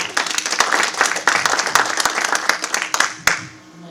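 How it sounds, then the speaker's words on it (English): An audience at a romance novel conference session claps, a crisp burst of many individual hand claps, close and lively, that thins out and fades near the end. "give her another round of applause"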